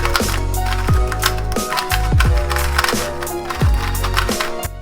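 A Dayan Tengyun 2x2 V2 M speedcube with black internals turns in quick bursts, close and fairly loud clicks and plastic clacks repeating steadily over several seconds with no talking.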